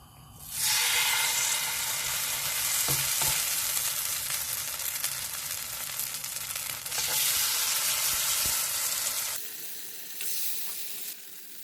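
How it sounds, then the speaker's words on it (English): Loud, steady sizzling of a shredded potato pancake frying in vegetable oil that fills the clip, easing slightly near the end but still crackling. "add a generous amount of vegetable oil on the frying pan to make crispy pancake"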